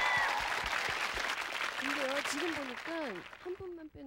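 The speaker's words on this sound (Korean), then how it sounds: "박수 한번 크게 쳐주시죠" Studio audience on a 1994 Korean Saturday-night television music show applauds to welcome a techno group, a dense burst of clapping that thins as a host's voice talks over it.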